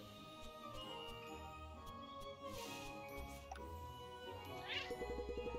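Cartoon cat meowing in the game Cat Quest II, a short high mew heard near the end over a busy, tinkling game music bed, with a light jingling pattern right after it.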